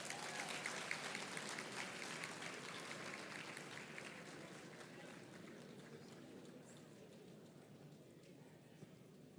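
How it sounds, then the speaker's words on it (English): Audience applause at a university special congregation ceremony, a steady dense wash of clapping lasting throughout, moderately loud and gradually thinning slightly toward the end. "Can you clap for yourselves once more?"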